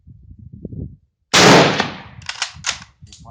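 A single loud, sharp crack from a Turkish-used Gewehr 88/05 rifle, followed by a quick ringing echo and a few fainter clanks of the action, with quiet outdoor rumble and movement before it.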